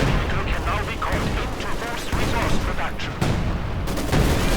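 An artillery barrage in Company of Heroes 2, a dense run of booms and crackling blasts layered over one another without pause, with a commentator talking over the battle.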